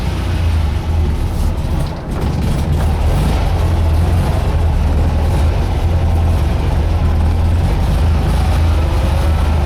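On a cold morning, a Volkswagen Beetle's air-cooled engine drones steadily and loudly from inside the car while driving, a continuous low rumble without pause.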